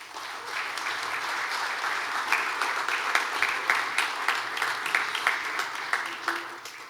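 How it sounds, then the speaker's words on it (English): Sustained round of applause from an awards-event audience, dense overlapping clapping that holds steady throughout with a few sharper claps standing out near the end. "I want you to give yourself a big round of applause"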